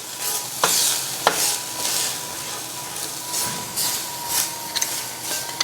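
Cumin heating in a pan, a steady close sizzle with a few sharp clinks of a utensil against the pan at intervals, no voices.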